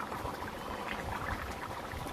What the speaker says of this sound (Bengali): দেখুন তরকারি চারিদিকে ফুটছে